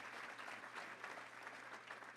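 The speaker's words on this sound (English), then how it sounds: "let's give those folks a round of applause" An audience at a Little Rock Touchdown Club gathering applauds its volunteers, a steady, even wash of clapping that sounds faint and somewhat distant for the whole stretch.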